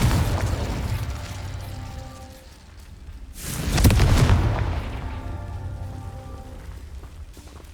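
Explosive spell blasts in the Hogwarts Legacy video game: a loud booming burst swells near the middle, framed by crackling, rain-like debris and rumble before and after.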